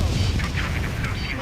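A missile launching in an Ace Combat 7 air-to-air fight, a loud whooshing roar that holds steady and stays close, with radio voices talking over it.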